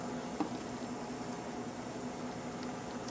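Seared beef brisket simmering in a pot of sweet and sour sauce gives off a steady, soft bubbling hiss. It stays even and close throughout, with one small pop near the start and no talk.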